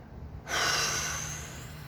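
A single deep, sharp inhale through the mouth during a breathing exercise, close and loud, starting suddenly after quiet and then trailing off slowly into a hushed, airy hiss.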